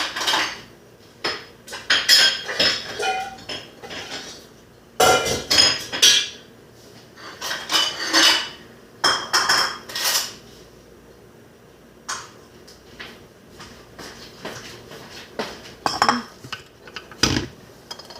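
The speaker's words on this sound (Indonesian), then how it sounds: "Ini telur itu dipotong-potong kecil-kecil, taruh di dalam tahina." Knife clicking against a plate or board as four boiled eggs are chopped into small pieces for a tahini dish, with irregular sharp taps and clatters in bursts, close by and without talk.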